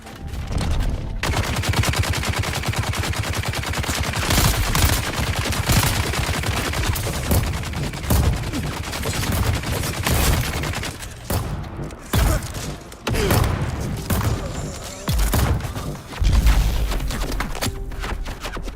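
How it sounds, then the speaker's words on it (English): Gunfire in the video game Dune Awakening: dense, loud bursts of rapid automatic shots and single cracks, nearly continuous with brief gaps and heavy thumps mixed in. "Who's shooting at me, man?"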